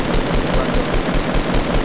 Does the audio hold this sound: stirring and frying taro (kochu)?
no